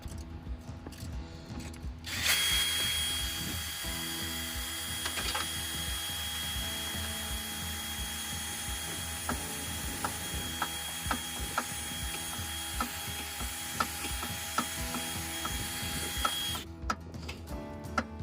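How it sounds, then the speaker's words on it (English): A power drill drilling out a stripped bolt whines continuously at close range, a steady mechanical grinding with faint clicks, starting and stopping abruptly. "So I'm gonna be drilling that out."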